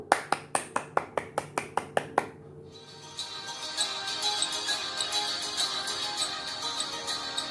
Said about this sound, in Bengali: একটা জোরে হাততালি হয়ে যাক অনামিকার জন্য